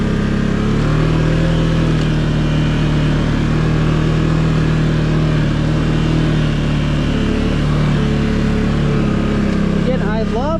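A Can-Am Outlander Pro HD7 utility vehicle engine hums steadily while riding, a constant loud mid-pitched drone with little change in speed, and a person talks over it near the end.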